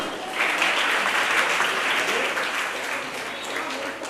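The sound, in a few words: applause for prize winners at school function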